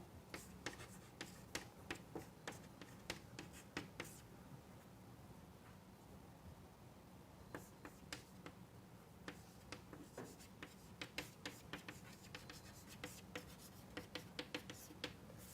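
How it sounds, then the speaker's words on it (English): A pen writing on paper in quick, regular faint scratches and taps, with a short pause in the middle, all close and quiet with no speech. "I am just writing it inside."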